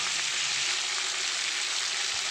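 Potatoes frying in a pan with oil during home cooking of a fish curry, a steady close sizzle lasting a couple of seconds with no voices.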